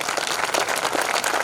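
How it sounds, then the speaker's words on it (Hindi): A crowd at a kavi sammelan poetry gathering at the Kishanpur fair claps steadily, a dense sustained wash of applause with no pause across the whole moment. "ताली बजाओ ढंग से।"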